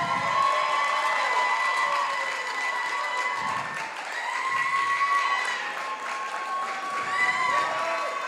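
An audience at a district attorney candidate forum applauds and cheers for the candidates, a dense sustained clatter of clapping with raised voices and whoops throughout.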